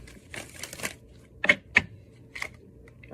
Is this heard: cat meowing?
no